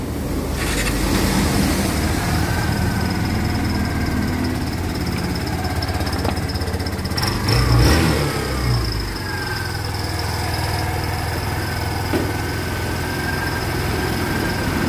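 A Kawasaki Barako 3 Fi motorcycle engine runs steadily up close, with a loud continuous idling drone and a brief swell in the middle.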